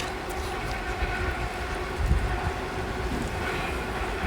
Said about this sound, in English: oh look at that train right there.